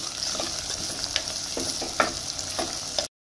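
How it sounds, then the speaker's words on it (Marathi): Onions and green chillies fry in a pan for veg pulao, a close crackling sizzle broken by several sharp stirring scrapes, stopping abruptly at the end. "आता कांदा लालसर होईस्तोवर भाजून घ्यायचा"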